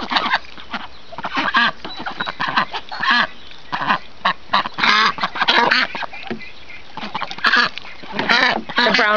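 White Pekin and brown mallard-like Rouen ducks quacking close by in an outdoor pen, a busy run of overlapping loud calls with a voice speaking between them.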